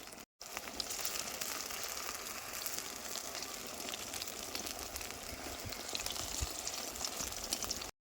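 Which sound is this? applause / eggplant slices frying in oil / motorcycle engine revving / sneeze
eggplant slices frying in oil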